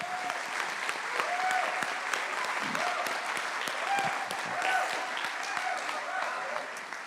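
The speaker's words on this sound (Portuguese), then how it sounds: "Uma salva de palmas a Jesus." A church congregation applauds steadily, a dense, sustained wash of many hands clapping that stays at an even level for the whole stretch, with some voices faintly underneath.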